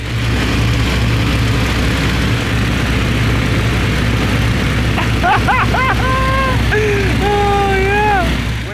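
A small airplane cruising at around 240 km/h fills the cabin with a steady, loud engine drone. Partway through, a few short rising and falling tones ring out over the hum, with no one speaking.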